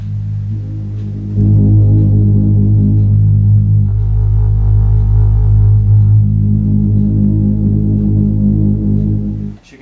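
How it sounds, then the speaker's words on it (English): Polymoog 280a synthesizer resonator played without an emphasis control: a loud, steady, throbbing low hum whose pitch and body shift in stages across several sustained tones, then cut off abruptly at the end. "So you get something like this."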